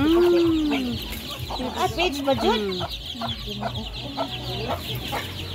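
Chickens cluck and a rooster calls at a rural home, with several birds close by in a busy, overlapping chorus while people speak over it.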